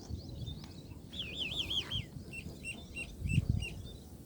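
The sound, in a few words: birds chirping in a village in the morning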